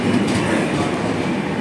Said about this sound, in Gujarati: ચલો આ ટ્રેન ઉપડી ગઈ